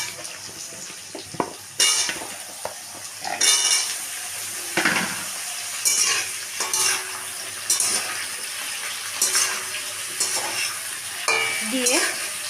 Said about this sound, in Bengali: এখানে আমি ঝিঙে আর কুমড়োটা যে কেটে রেখেছি এটা আমি দিয়ে দিলাম।